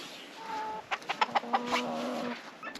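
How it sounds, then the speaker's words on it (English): Chickens cluck outdoors beside a pheasant pen on a homestead, a run of short, close clucks and drawn-out calls over a quiet background with no voices. "The chickens are enjoying a bit of time out in the outside of the pheasant area."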